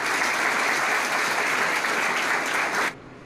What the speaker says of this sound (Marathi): आपण सर्वांसाठी जोरदार टाळ्या वाजवा.